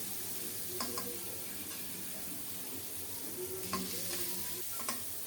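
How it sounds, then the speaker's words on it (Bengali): Potatoes frying with salt in a pan, a quiet steady sizzle with occasional faint stirring clicks. "একটু লবণ দিয়ে আলুটাকে কিছুক্ষণ ভেজে নিয়েছি"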